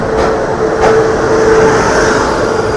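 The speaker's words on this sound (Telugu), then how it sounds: "ఇక్కడ ఏదో ట్రైన్ ఉంది, అది చూద్దాం మనం" A train at Visakhapatnam Junction produces a steady, loud rumble with a sustained low hum, heard close by and without pause.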